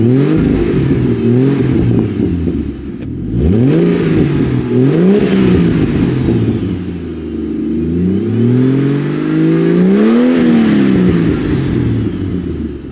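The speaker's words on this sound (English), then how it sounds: "Do you want to rev it or do you want me to rev it?" Ford FG ute engine with a stock exhaust and Venom catback, revved repeatedly up and down over several long, loud pulls that rise and fall in pitch, close by with no talk.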